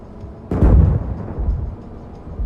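A tank main gun fires once in the GHPC video game, a sudden heavy boom that decays into a rumbling tail, followed by low background noise.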